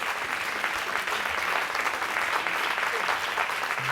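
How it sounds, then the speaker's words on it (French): Steady applause from a French television studio audience for a guitarist, even and sustained, a full crowd clapping throughout without pause. "Vous pouvez applaudir."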